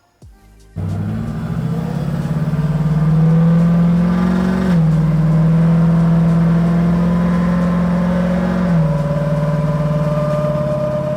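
A car engine revs up loudly and holds a high droning pitch, with a couple of gear shifts dropping the tone, heard from inside the vehicle.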